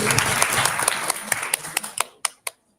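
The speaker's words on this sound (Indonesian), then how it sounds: "Kita beri tepuk tangan sekali lagi untuk Ibu." A school audience at a junior high science competition final claps loudly, the applause thinning out into a few scattered, isolated claps before falling silent.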